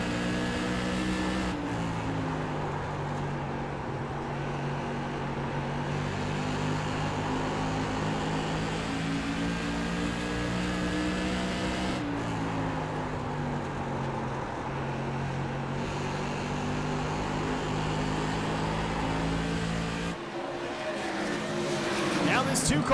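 Race cars battle at Michigan International Speedway, with a steady loud engine drone from cars running together and shifting pitch as they pass, and a commentator speaking over the noise throughout.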